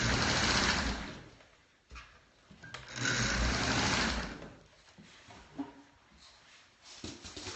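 An old sewing machine runs in bursts, a rapid mechanical whirring and clatter that starts and stops, close by with quiet pauses between runs.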